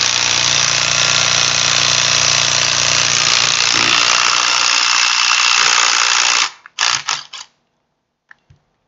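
A 12-volt cordless impact gun hammers loudly and continuously for about six seconds, then stops and gives two short follow-up bursts before a faint click.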